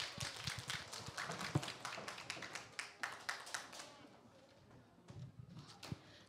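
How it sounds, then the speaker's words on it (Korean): Children and teachers at a church children's department service clap in welcome, a lively patter of hands that thins and fades, then picks up again in a few scattered claps, fairly close and moderately loud. "큰 박수로 환영해 주세요."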